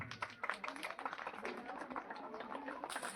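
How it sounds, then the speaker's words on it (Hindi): An audience claps to welcome a speaker to the stage at a school's 76th Republic Day celebration, a dense, steady patter of hands heard fairly faint and distant, with some voices mixed in. "और जोरदार तालियों से उनका स्वागत कीजिए।"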